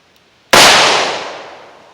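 A single loud .38 Special +P revolver shot with a Buffalo Bore load, one sharp crack with a long decaying echo tail over otherwise quiet surroundings.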